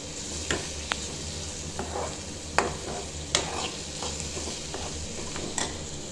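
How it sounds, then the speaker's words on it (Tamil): Masala for a mushroom roast sizzles in a pan while being stirred, with a steady frying hiss broken by several sharp clicks and scrapes of a spoon against the pan. "அந்த மசாலாவோட வாசனை போகிற வரைக்கும் நல்லா வணக்கிக்கலாம்"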